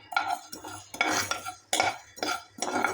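A utensil scrapes and clinks against a pan in four or five distinct strokes while cumin and fenugreek seeds dry roast, the stirring close and moderately loud with brief quiet gaps between passes.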